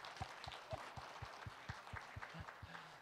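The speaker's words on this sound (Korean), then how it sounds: "우리 박수로 우리 축하하겠습니다." A church congregation claps to congratulate a newly engaged couple during a Sunday service, a moderate, fairly regular patter of hands with some louder individual claps standing out near the front.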